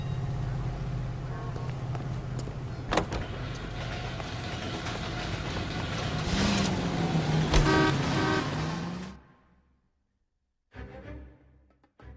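Car driving in the 1940s Los Angeles setting of the game L.A. Noire, a steady engine rumble with a horn toot and rising engine pitch, cutting to silence and then a short burst of sound near the end.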